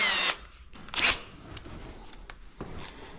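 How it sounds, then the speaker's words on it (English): A power drill bores through the siding of a new shop, with Tyvek wrap beneath, in short loud whirring bursts separated by scraping, rustling handling noise. "let's see if we can drill right through the siding here too now"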